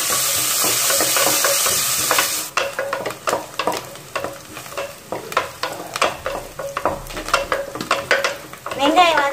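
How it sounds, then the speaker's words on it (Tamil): Chopped onions with curry leaves sautéing in a pan for a Tamil mutton gravy, loud steady sizzle with repeated scraping and clinking of a stirring spoon against the pan, no talking. "இப்போ இதில் வெங்காயம் சேர்த்து வதக்கிடலாம்"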